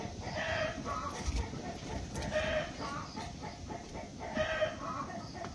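A hen clucks loudly and repeatedly after laying an egg, with other chickens cackling in a rhythmic burst of calls close by, and little else around them.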